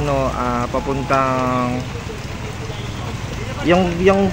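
Steady heavy rain from Typhoon Carina in Metro Manila pours throughout, a dense hiss under a voice speaking in short bursts at the start and end.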